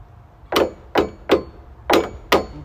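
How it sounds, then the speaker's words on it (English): Five sharp metallic hammer strikes on the metal tab of a deck joist hanger, evenly spaced and close up, each a bright ringing clang, with no talk. "then I hammer that metal tab"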